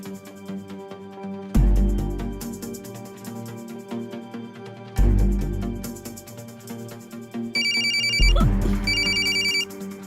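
A phone rings with a tonal ringtone mixed into loud music with heavy thumps, a higher beeping ring pattern standing out toward the end.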